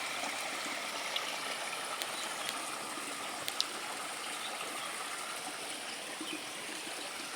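Stream water of the Khardu river flows steadily near a dam intake chamber, a constant even rush and trickle with no voices.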